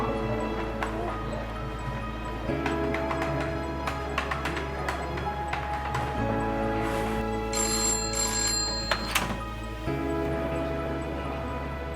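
A telephone rings for an incoming call: a repeating electronic ring pattern, steady and fairly clear, going on throughout.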